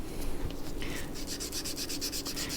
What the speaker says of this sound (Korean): 저는 이렇게 사포로 약간 문질러 줘서 모서리를 좀 각을 죽여주는 편이에요